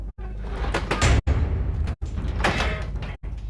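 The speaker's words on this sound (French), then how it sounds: "Ouvre la porte." A heavy door scrapes and slides open in Call of Duty WW2, a loud sustained grinding broken by brief silences, with dull thumps and no talk.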